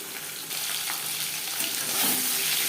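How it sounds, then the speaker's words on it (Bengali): Singhi fish frying lightly in mustard oil, a steady close broadband sizzle with faint scraping stirs, continuous for a few seconds. "মাছ আমি একেবারে হালকা করে ভেজে নেব"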